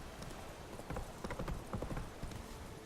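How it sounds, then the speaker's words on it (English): Horse hooves in The Witcher 3 clip-clop in a steady, close rhythm of repeated thuds, loud and clear over a faint game background, with no talking. "This horse is really hard to steer."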